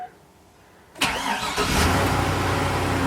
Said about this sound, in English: Starts right up though.